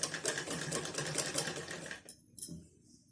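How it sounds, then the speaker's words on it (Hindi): A sewing machine runs steadily, stitching a blouse lining together with its fabric, with a dense rapid clatter that stops abruptly near the end, followed by a brief restart and a faint click. "तो ऐसे करके अब इन तीनों को एक बराबर हम सिलाई चलाकर दिखाते हैं।"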